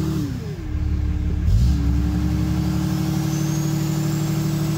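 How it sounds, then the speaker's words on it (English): A truck with a 68RFE automatic transmission revs up briefly from idle during a transmission relearn, settling to a steady hum; a loud nearby engine with a rising tone around 1.5 seconds, and no talk. "It's gonna rev up."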